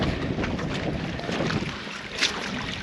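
Rainwater and wind rush along a flooded moorland path on Dartmoor in wet, windy winter weather, a steady broadband wash of running water and gusty wind noise with no voices.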